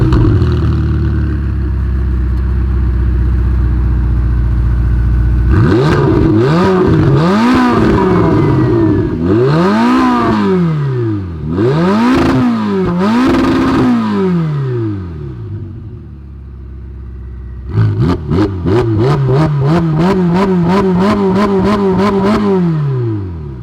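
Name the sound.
Ferrari 488 Pista engine revving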